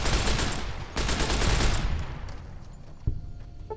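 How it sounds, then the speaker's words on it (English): Machine gun fire in Fallout New Vegas rattles in loud, rapid bursts that tail off into quieter echoing shots, with one more sharp report near the end. "May have to go machine gun here."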